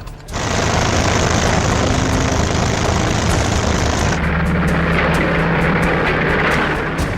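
Military aircraft of the Barbarossa era fly overhead, a loud, sustained propeller-engine roar filling the whole stretch, with a shift in tone partway through and faint rhythmic pulsing afterward.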